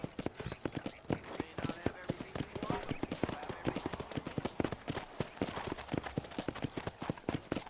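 Rapid, steady clip-clop of horse hooves trotting close by at a ranch in the video game Red Dead Redemption, with a voice talking over the rhythmic clatter.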